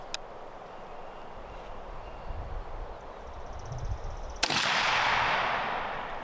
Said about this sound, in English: So Dylan just shot.